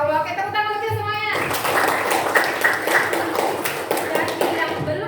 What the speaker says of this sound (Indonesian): oke tepuk tangan lagi semuanya